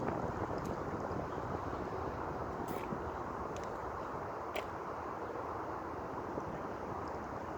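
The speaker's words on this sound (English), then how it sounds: "Wind kicks in more because there's no movement in front of me." Outdoor wind makes a low, constant rumbling rush across the microphone, fairly quiet and unbroken, with a few faint high ticks scattered on top and no talking.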